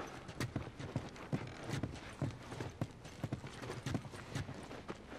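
Horse hooves clip-clop steadily at a walking pace in the video game The Last of Us, a close, even rhythm of dull knocks over a soft outdoor background.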